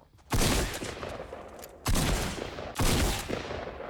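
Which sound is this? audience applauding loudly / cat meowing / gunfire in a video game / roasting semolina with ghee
gunfire in a video game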